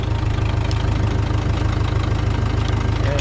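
A John Deere 3010 tractor engine running nearby, a loud, steady low chugging with a fast regular beat and no pauses.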